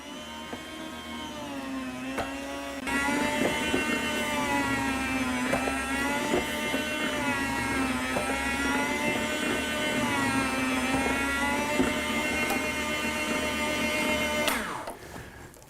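An electric meat slicer cuts through homemade Canadian back bacon. Its motor runs as a steady, close whine with a wavering hum, rising in strength about three seconds in and cutting off just before the end. No one speaks.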